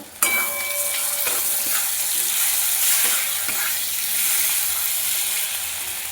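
Mutton masala fries in a pot with a splash of water and tomato, a loud continuous sizzle broken by several sharp clanks and scrapes of a spoon stirring against the metal.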